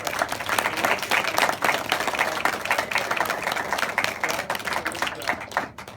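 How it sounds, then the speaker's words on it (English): Wedding guests in Titusville applaud the couple, a lively crowd of hands clapping fast and close, with a few louder individual claps standing out before it tapers near the end. "So let's give them a round of applause, right?"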